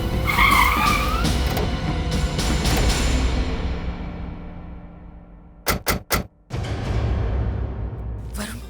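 A car skids with tires squealing, a loud sustained screech that fades out, followed by a few sharp knocks and a low rumble returning.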